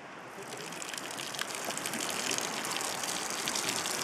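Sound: liquid being poured out slowly while making red caviar

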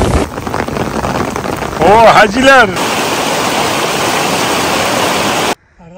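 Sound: rain falling in the mountains

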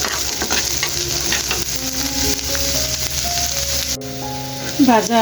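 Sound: onion and garlic frying in pan

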